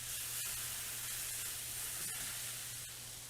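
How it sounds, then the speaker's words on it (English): Water steams and sizzles on a hot Wolf range griddle while it is being cleaned, a soft, even hiss with faint crackles and a low hum underneath. "We'll get that steam sizzle on there."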